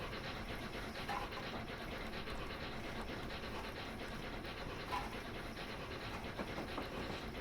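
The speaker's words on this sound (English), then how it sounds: "So I'm trying to bring the train back up to speed as quick as I can." A steady rumble of a train running on the London to Brighton line in a train simulator video game, with faint rhythmic clickety-clack of wheels over the track, constant and unbroken.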